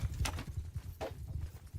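Horse hooves clip-clop in a medieval battle video game with Sturgian forces. Rhythmic, muffled hoofbeats patter continuously at moderate distance over low rumbling battle ambience.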